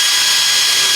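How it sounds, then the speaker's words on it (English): A power drill whirs steadily at full speed, drilling holes in a wheelbarrow, a loud continuous high-pitched motor drone filling the whole second without pause. "So I'm just gonna drill"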